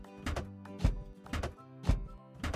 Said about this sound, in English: Now let's load materials into the dump truck.